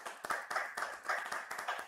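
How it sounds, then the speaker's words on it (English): A small audience gives a quiet round of applause, its faint, distant clapping going on in an irregular patter for a couple of seconds. "Please give a round of applause."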